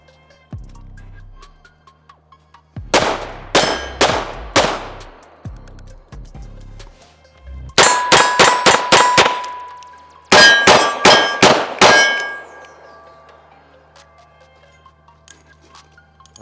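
Revolver rounds strike steel targets at a distance, each hit a bright ringing clang; three quick hits come first, then a rapid string of five, then four more, every ring decaying between shots.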